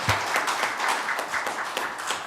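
Audience at a seminar on new-town planning claps for an introduced panelist, a moderately loud, even patter of many hands, with a few sharper individual claps standing out from the steady spread.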